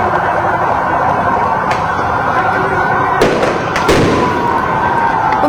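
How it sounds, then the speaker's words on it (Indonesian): Firecrackers set off by protesters toward a parliament complex crack and thump amid a loud, roaring crowd, with a steady dense din and a couple of sharper bursts standing out. "menyalakan petasan ke arah dalam kompleks parlemen"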